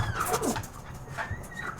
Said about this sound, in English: Doggy's coming through.